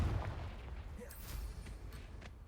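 A Confringo fire spell going off in Hogwarts Legacy, a deep rumbling blast with crackling bursts that fades over a couple of seconds, moderately quiet and without speech.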